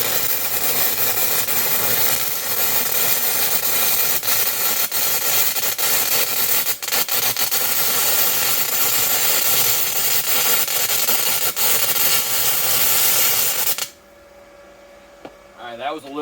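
A 6011 stick electrode burns on an ArcCaptain MIG130 welder, a steady loud crackling, sizzling arc that runs continuously for most of the stretch, then cuts off abruptly into quiet.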